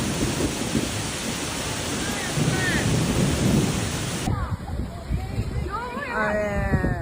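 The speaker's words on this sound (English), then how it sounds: "Heavy rain caused serious flooding in Japan on May 14, 2026." Heavy rain pounding down during serious flooding in Japan, with rumbling thunder in a loud, continuous roar; the sound shifts partway through, and a voice talks over it.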